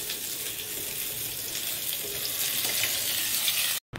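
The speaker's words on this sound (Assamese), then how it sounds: "মাছখিনি আগতে ভাজি লওঁ" Fish fries in a pan, giving a continuous hissing sizzle that stays fairly even for several seconds before cutting out briefly at the very end.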